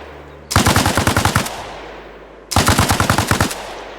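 Two long bursts of PKM 7.62 machine gun fire in ARMA Reforger, each about a second of rapid rhythmic shots, loud and close, separated by a short pause with a fading echo tail.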